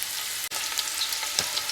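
Smoked sausage fries in a pan with a dense, steady sizzle. It is broken once by a brief dropout and has a few soft crackles and pops close by.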